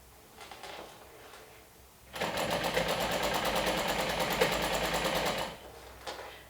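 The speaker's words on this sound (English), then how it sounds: "close my blanket with the top stitching" A sewing machine starts up and runs in one steady, rapid, loud burst of stitching for about three seconds, top stitching through four layers of plush blanket fabric, with quieter handling sounds before and after.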